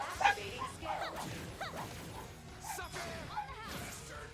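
A dog barks in battle in the video game Trails Beyond the Horizon, with several short yips and barks mixed among whooshes, impacts and other combat effects.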